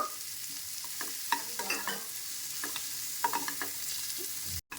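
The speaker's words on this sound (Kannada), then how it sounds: "ಈ ಥರ ಹೈ ಫ್ಲೇಮ್ನಲ್ಲಿ ಇಟ್ಕೊಂಡು ಟಾಸ್ ಮಾಡಿಕೊಂಡ್ರೆ ಚೆನ್ನಾಗಿರುತ್ತೆ." Chili flakes and oregano tossed and fried in a pan over a high flame: a steady sizzle with scattered clinks and scrapes from stirring, close and continuous with no talk.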